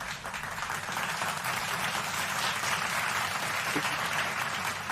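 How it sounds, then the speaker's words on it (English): Audience at a live pre-cruise show applauding steadily, with a dense, continuous patter of clapping from a crowd. "thank you for the applause"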